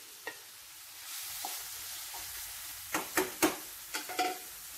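Onions and curry leaves sautéing in hot coconut oil, with a low steady hiss and then a cluster of louder stirring scrapes and spatters near the end, close by.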